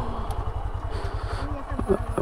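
A motorbike engine idles close by on a roadside near a new bridge on the way to Tajpur, its steady low throbbing pulse continuing throughout, with faint voices over it.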